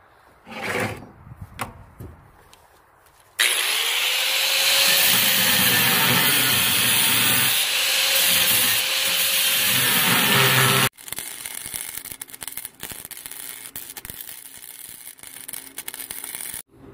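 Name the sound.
cutting scrap steel with a cutting wheel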